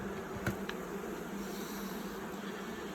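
Honeybees hum steadily around an open hive during an inspection, with a close, continuous buzzing drone and a brief knock or two, without any talk.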